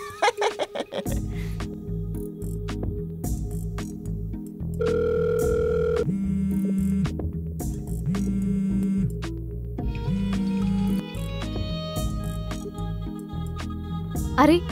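A telephone tone after a call is cut off, a steady electronic tone with beeping pulses, mixed with background music.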